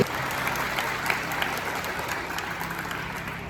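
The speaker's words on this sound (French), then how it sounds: "Applaudissez-le." An audience at a children's talent event applauds continuously, a dense, even wash of clapping lasting a few seconds with no speech.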